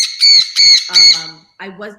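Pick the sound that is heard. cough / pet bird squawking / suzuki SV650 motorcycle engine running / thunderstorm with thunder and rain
pet bird squawking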